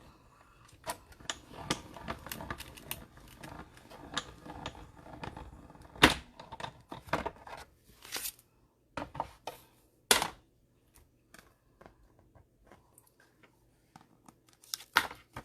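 A die cutting machine cranks a Christmas card with pine cone dies and embossing vellum through its plates, giving irregular mechanical clicks, creaks and sharp snaps at close range, with quieter gaps between bursts.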